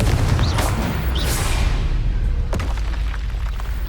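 Spell explosions from the video game Hogwarts Legacy: a series of booming blasts and sharp bursts, loud and close, with whooshing spell sounds and one sharp crack partway through, no talk.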